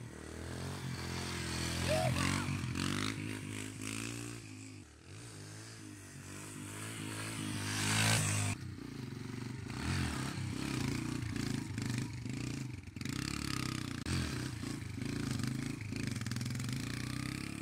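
A motorcycle engine revs and pulls as the rider leans into a controlled wheelie, its tone rising and falling in repeated surges, loud and close for most of the ride with brief dips between pushes.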